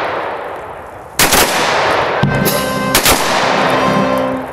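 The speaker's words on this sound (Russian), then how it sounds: "Под выстрелы из автоматов и звуки военного оркестра в Сарове прошло первое в истории города захоронение" Automatic rifles fire a ceremonial salute at a military burial of a Soviet Army soldier in Sarov. Loud, sharp volleys crack and ring out nearby, separated by brief pauses over low background noise.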